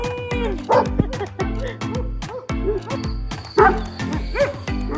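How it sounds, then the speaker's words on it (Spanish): A small dog barks repeatedly in quick yips and higher whimpering cries, close and loud, in bursts spread across the whole stretch, with voices faintly mixed in. "¡Mira el perrito!"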